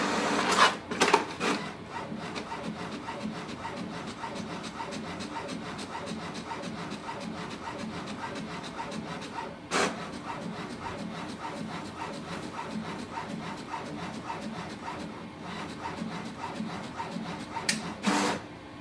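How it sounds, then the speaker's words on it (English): An HP Smart Tank 5100-series inkjet printer scans and prints a copy of an ID card, a steady mechanical whir and rub with a few sharp clunks near the start, midway and at the end. "it's going to scan the second side and then it will start the printing"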